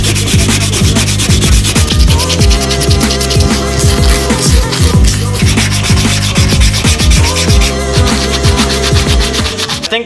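Steady, loud abrasive rasping as a brake caliper is sanded, continuous back-and-forth strokes with no talk.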